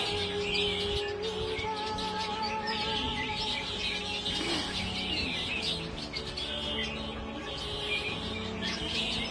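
Red flicker woodpecker singing outdoors on a property busy with birds, bright chirping mixed with other birdsong over a steady background hum.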